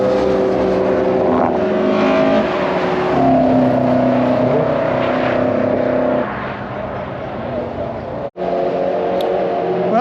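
A Vauxhall Vectra racing car engine (C20XE) drones loudly nearby on a race track, its pitch shifting, then it drops in power and cuts out abruptly before stuttering back, misfiring.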